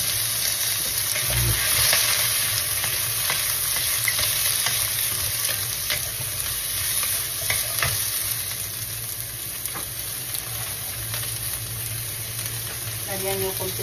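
Red, yellow and green peppers hit a hot pan for sweet and sour spare ribs, hissing in a loud, constant sizzle with repeated utensil scrapes and stirring clatter.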